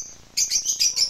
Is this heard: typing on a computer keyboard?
no